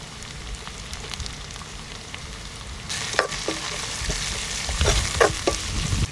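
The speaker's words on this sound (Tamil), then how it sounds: "அரிக்க வச்சுருக்க வெங்காயத்தை சேர்த்து எல்லாம் சேர்ந்து நல்லா வதங்கும்" Steady frying sizzle in a pan, suddenly louder halfway through as chopped onions are added for a dried-fish curry, with scraping stirring sounds.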